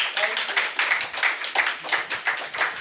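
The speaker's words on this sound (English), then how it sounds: "Give the Lord a hand clap." A church congregation clapping hands in praise during a Sunday service, a steady rhythmic beat of roughly three claps per second, close and fairly loud, with no voices over it.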